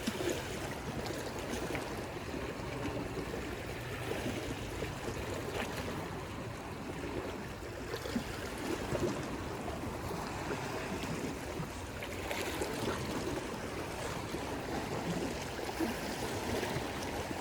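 Continuous washing water and lapping waves from a passing cargo ship fill the scene at a moderate, distant level, with no voices.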